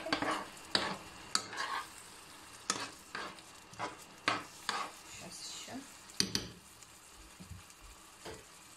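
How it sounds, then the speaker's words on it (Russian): Chicken liver being stirred in a frying pan, with a low sizzle under sharp scrapes and clinks of the utensil against the pan, quiet and close, then water added. "Перемешиваем. И добавляем водичку."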